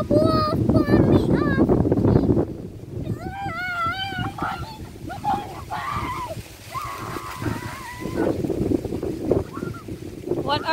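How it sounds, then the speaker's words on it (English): Gusty wind on a farm in Jamaica buffets the microphone with a low rumbling roar, continuing under people talking throughout. "It's very windy today."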